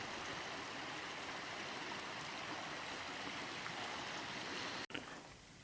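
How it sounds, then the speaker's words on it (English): Continuous rushing water flows steadily and evenly, like a nearby stream, with a brief dropout near the end. "just enjoy the silence, Annie, the tranquility, the peace of the water and stuff"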